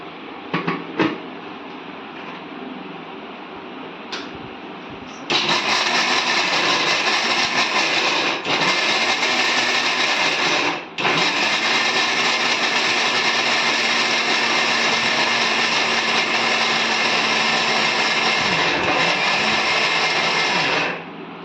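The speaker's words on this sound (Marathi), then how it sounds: "मिक्सरला ते फिरून घ्यायचं," Electric mixer grinder grinding dried coconut with garam masala: after a few knocks and handling sounds, the motor starts with a loud steady whir, pauses briefly once, then runs on continuously close up.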